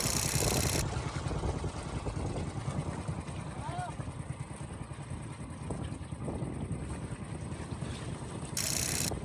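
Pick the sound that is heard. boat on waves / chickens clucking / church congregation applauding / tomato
boat on waves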